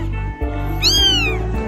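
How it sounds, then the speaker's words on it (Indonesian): A cat meows once from inside a box at a festival, a clear, close rising-falling cry lasting about half a second over a low background hum. "Ada suara kucing Mbak."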